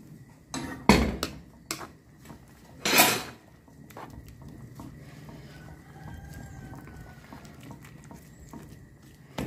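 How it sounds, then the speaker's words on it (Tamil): Rava semolina poured bit by bit into boiling milk for vegetable rava upma, heard as soft patters and scattered clinks of a pan and utensil, with a couple of louder rattling bursts early on and quieter stirring after. "இப்போ நாங்கள் இதில் கொஞ்சம் கொஞ்சமாக ரவையை ஆட் பண்ணிக்கொள்வோம்."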